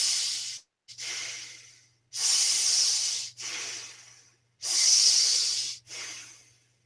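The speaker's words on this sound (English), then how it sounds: "So start breathing long in the hissing breath through both the nostrils" Long hissing breaths drawn and released through both nostrils during a meditation exercise, loud and close, in five or six sustained airy bursts separated by short silences, over a faint low hum.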